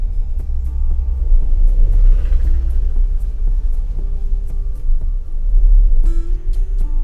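A car labours up a steep concrete road on a hill route near Munnar, its engine a loud, continuous low rumble close by, swelling slightly as it climbs.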